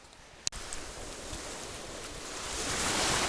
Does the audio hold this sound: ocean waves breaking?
yes